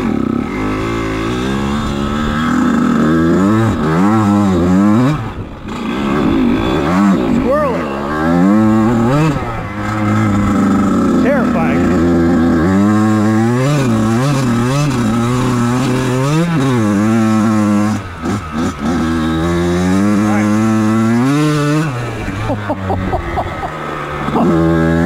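A 1999 Kawasaki KX80 two-stroke dirt bike engine revs up and down hard and close, out of gear, with a rasping, buzzy tone that swells and falls continuously throughout.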